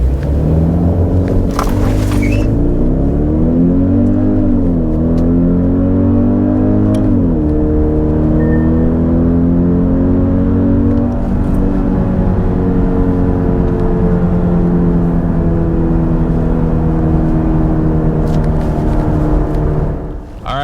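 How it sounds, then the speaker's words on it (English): A 2022 Genesis GV80 SUV cruises on the highway, heard from inside as a loud, continuous low engine and road rumble. Pitch shifts gently with speed, and faint wind and tire noise run throughout. "as we cruise along on the highway in the GV80"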